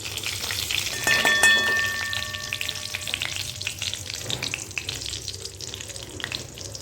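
Curry leaves, cumin and mustard seeds sizzle in hot oil for a poli chivda, a loud close crackling fry with scattered pops and stirring, and a brief high steady tone early on.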